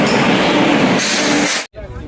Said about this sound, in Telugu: ఢిల్లీకి వెళ్ళే ట్రైన్ అయితే వచ్చేసింది